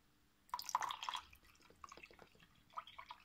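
Still mineral water poured into a measuring container, heard as a short burst of splashing followed by scattered drips and trickles, quiet and close.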